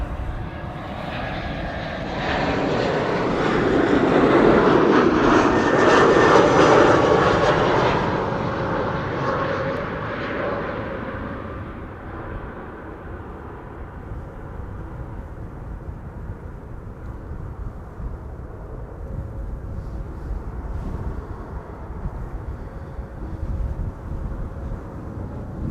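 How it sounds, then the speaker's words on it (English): An Air France Airbus A220 (Bombardier C-Series 300) arriving from Paris-Charles de Gaulle passes with a broad jet engine roar that swells to a peak, then fades into a steady, lower drone that lingers to the end. "Here it is, the A220 Bombardier C-Series 300 from Air France"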